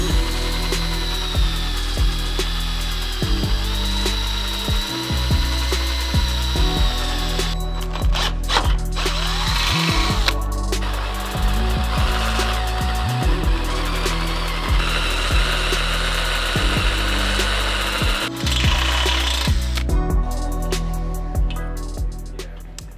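A drill bores holes with a 1/4 inch bit into the front crash bar of a 2022 Toyota Tundra bumper, loud whirring bursts starting and stopping repeatedly over about twenty seconds, close up with no talk.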